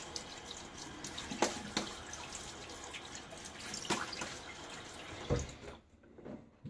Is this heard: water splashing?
yes